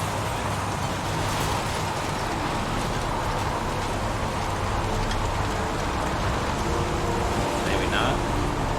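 Steady rain falls in the video game Heavy Rain 2, a dense, even hiss that runs unbroken throughout. Nothing else stands out from the constant downpour.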